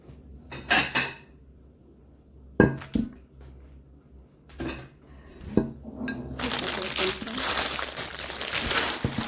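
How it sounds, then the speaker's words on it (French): A plate picked up and handled in a kitchen while a tart is being made: a few separate close clinks and knocks, then a steady rustling clatter to the end. "Je prends une deuxième assiette."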